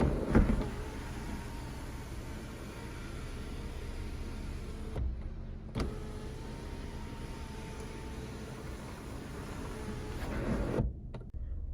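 A used car with about 109,573 km on it runs its power sunroof motor, a steady low whirring hum in two long runs, each ending with a soft mechanical clunk as the glass panel stops.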